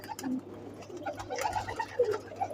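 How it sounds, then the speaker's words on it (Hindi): Soft cooing of a female pigeon in short murmuring phrases, with faint flutters and light background noise; no one speaks. "बहुत अच्छी कबूतरी है"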